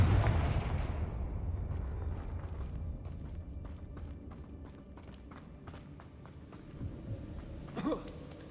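A fire spell in the game Hogwarts Legacy bursts with a booming impact that decays into crackling, followed by scattered sharp debris pops and a brief whoosh near the end.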